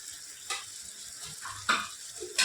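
Meat frying in a pan in a home kitchen, giving a soft steady sizzle broken by three sharper bursts of stirring or scraping spaced about a second apart.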